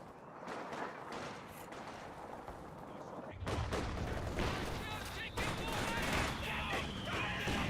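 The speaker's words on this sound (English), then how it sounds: "MG34 suppressing on conscript squad" In Company of Heroes 2, MG34 machine-gun bursts and mortar fire crackle in a dense battle din that turns louder and fuller about midway, with a commentator talking over the gunfire throughout.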